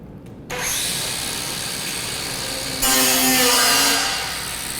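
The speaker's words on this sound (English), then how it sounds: "I want you to go ahead and grind" A power grinder bites into metal and throws sparks, a loud steady whine that starts abruptly, then rises in pitch and intensity partway through before easing slightly, with no talking.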